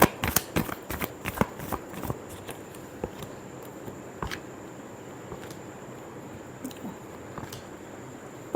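Tarot cards are shuffled by hand, a quick flurry of soft riffling snaps at the start, then sparse light taps and rustles, faint and close in a quiet room.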